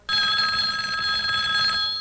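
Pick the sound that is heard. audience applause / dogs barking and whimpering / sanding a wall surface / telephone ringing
telephone ringing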